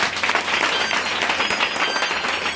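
A church congregation applauds steadily throughout, a dense wash of clapping from many hands filling the room with no talk over it.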